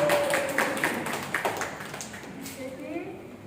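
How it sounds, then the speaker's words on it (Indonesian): Scattered hand claps and light taps from a small audience at a health education session on hand hygiene and effective coughing, heard under ongoing speech, uneven and fairly quiet rather than sustained. "Tepuk tangan dulu."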